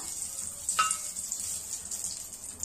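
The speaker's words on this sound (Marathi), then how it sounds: "हे पहा 1 वाटी तूप घेतले, त्याच्यात टाकून घेऊया।" About a cup of ghee goes into a hot kadhai for sesame laddoos, producing a soft, even sizzle with a few brief crackling pops, fairly quiet and without voices.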